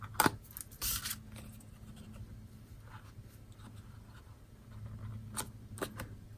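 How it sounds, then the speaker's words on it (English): Backing is peeled off adhesive dimensionals for a farmhouse Christmas box craft: a few short, quiet papery rasps and crinkles spaced apart, with near-silence in between. "So I'm just going to peel the backing off."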